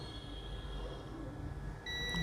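A multimeter continuity tester gives a steady high beep that begins near the end while probing the board of a dead Samsung F23/M23 phone under repair, over faint background hum.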